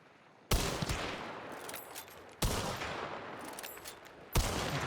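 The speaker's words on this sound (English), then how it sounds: "The fire rate is so slow on this gun." Mako rifle fire in a shooter video game, three loud sustained bursts each starting abruptly, separated by short gaps, with no voices.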